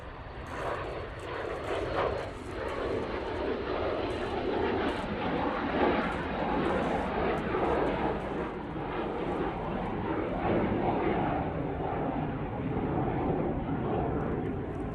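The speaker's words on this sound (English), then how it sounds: "PC24 now on the roll. This one's a good looking jet." A Pilatus PC-24 jet rolls for takeoff at Manchester Airport, giving a steady, loud, broadband engine roar that stays constant throughout with no voices over it.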